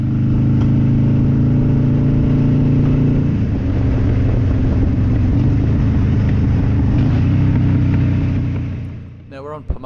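Harley-Davidson motorcycles on an Auckland HOG chapter group ride, a loud, continuous low engine rumble with the steady drone of the machines cruising close by, easing off briefly near the end.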